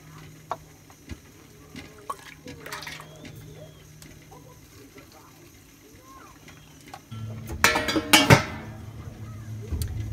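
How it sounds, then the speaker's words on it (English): Hot corn blanching liquid is poured into glass canning jars, a faint trickle early on, then a louder, gurgling pour near the end, with clinks of jars and utensils and a person talking throughout. "I'm going to use the liquid that I blanched the corn in."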